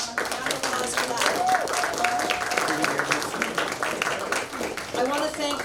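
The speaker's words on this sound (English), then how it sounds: "Round of applause for that." Applause for young jazz scholarship musicians at a jazz society performance, a steady wash of clapping from a modest audience, with voices talking and cheering over it throughout.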